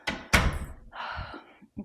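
A house door closes with a solid thunk in an Arizona desert mountain home, a sharp knock followed by a short rumble, then brief rustling and a faint second bump.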